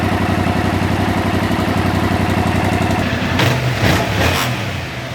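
A Yamaha MT-07 motorcycle on its stock exhaust idles with a loud, fast, even putter, then a brief blip and fluctuating rumble near the end.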